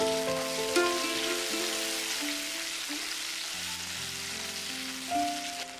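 Tomatoes hitting hot oil with mustard and cumin seeds in an Indian vegetarian curry, a steady close sizzle and crackle throughout beneath loud background music.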